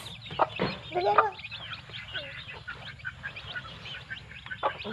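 Chickens and small chicks on a farm, with rooster-like clucks and repeated high peeping calls scattered over several seconds, fairly close, with faint background noise.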